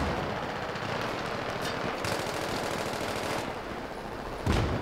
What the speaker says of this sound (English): Okay, I'm getting shot at too.